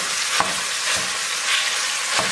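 Butter sizzling in a pan for a bolognese sauce, a steady bright crackling hiss with a few soft scrapes of stirring, close and alone with no voices.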